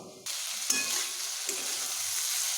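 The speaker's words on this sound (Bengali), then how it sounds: "সবজিগুলো আমার প্রায় অর্ধেকটা ভাজা হয়ে গেছে" Vegetables frying in a pan for dalia, a steady close sizzle broken by a few brief stirring scrapes, with no one talking.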